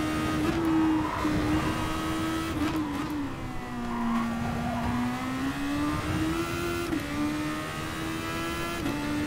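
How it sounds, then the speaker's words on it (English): Race car engine in Gran Turismo Sport running on worn tyres, a steady loud engine tone rising and falling with revs, with faint scrubbing from the worn front left tyre beneath it. "You can probably hear that tyre wear"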